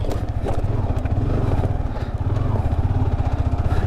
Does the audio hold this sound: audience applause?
no